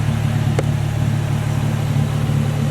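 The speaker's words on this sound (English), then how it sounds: "The engine sounds pretty good" A Nissan 350Z engine idles steadily and loud, a smooth continuous hum with no speech over it.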